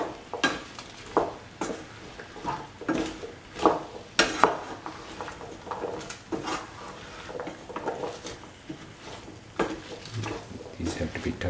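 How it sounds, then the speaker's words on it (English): Vegetables being stirred and turned over in a pan of masala and tomatoes for a home-made mixed vegetable stew, with irregular scraping and clattering strokes over a soft sizzle. "These have to be thoroughly mixed and turned over and over."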